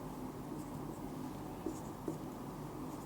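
Pen scratching across paper while a T account is drawn up for ledger entries, a soft continuous scribble with a couple of small taps, close and quiet.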